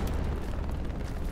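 A satchel charge explodes on a tank in the video game Hell Let Loose, a loud dense rumbling blast that fills the whole short moment with low booming energy.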